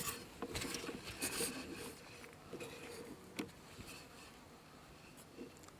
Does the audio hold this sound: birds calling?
no